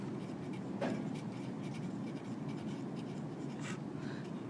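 A pen scratches steadily across a board or tablet during an immune system lecture, a soft, dry stroking that stays faint and even, with a few sharper marks and no speech.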